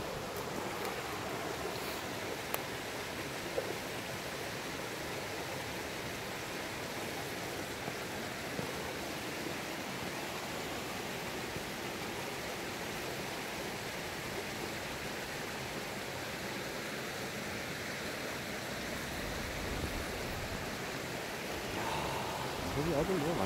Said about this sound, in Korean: 아주 맑은 개울을 하나 이제 봤습니다